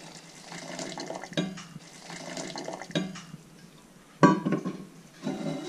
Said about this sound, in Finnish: Me aamulla se vesi tänne kiehuvaan laitettiin ja nyt me kaavetaan se sinne